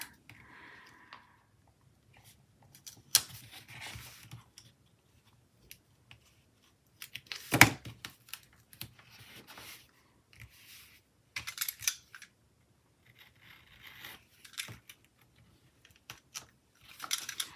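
Scissors trim paper for a pink and green Happy Planner spread, sparse quiet snips and paper rustles spread across a long, mostly hushed stretch, with one louder crisp cut near the middle.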